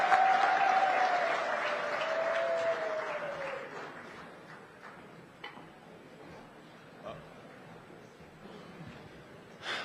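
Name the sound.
audience applause at a SADC summit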